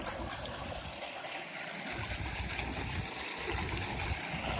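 Water gushes forcefully from large pipes during floodwater pumping near the Amaravati High Court, in a steady, loud, continuous rush, broad and hissing, with no voices over it.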